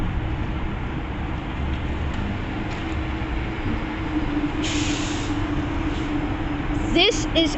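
An MBTA commuter rail train at Quincy Center station gives a steady, loud rumble with a faint hiss and squeal near the end. Voices speak over it.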